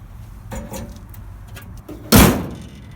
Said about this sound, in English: Listen to that metal hood